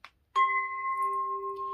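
A steady 396 Hz sine-like tone, tied to the angel Eyael, sounds clear and sustained for over a second after a brief click, quiet and alone.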